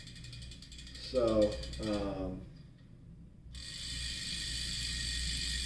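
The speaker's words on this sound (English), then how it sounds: "It's not super loud. I don't like super loud hubs myself," Rapid ratchet clicking from the freewheel of Novatec bicycle wheel hubs on a Farsports Feder disc brake wheelset, a fairly quiet buzzing tick that stops then resumes, with a brief spoken word.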